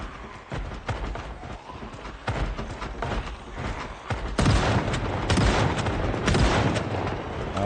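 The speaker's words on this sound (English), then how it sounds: "Shotgun time." A shotgun fires at zombies in Project Zomboid, a string of heavy booming blasts that grow louder and denser in the second half, close and punchy over a busy game soundscape.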